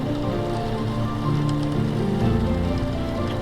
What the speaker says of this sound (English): I am really enjoying just being in our house and listening to the rain